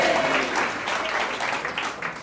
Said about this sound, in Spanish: Si va a aplaudir, aplauda en esta mañana